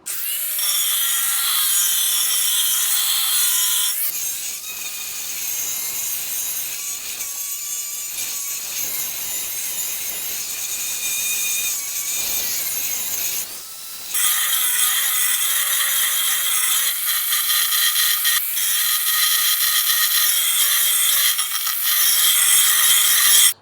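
An angle grinder bullnoses the edge of a porcelain tile, a loud, steady high-pitched grinding whine that runs almost without break, briefly dipping as the disc's contact with the tile changes, with no talk.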